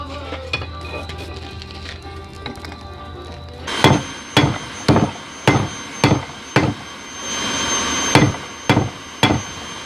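Hammer striking hot metal while forging a fire poker: about eight sharp, ringing blows at a steady rhythm, close and loud, following a quieter stretch of workshop noise.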